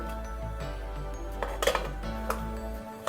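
A pot lid is lifted off steamed ragi semiya, giving a few soft metallic clinks and a clatter of cookware over a steady low hum, close by with no talking.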